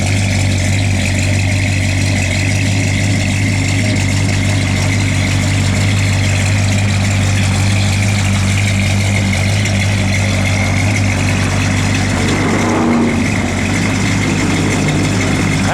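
A 1969 Plymouth Road Runner idles steadily, its V8 giving a deep, even rumble close by that holds unchanged throughout, with no talking over it.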